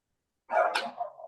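Indoor dog giving a single short, sharp bark after silence, close and fairly loud, with a brief trailing yip.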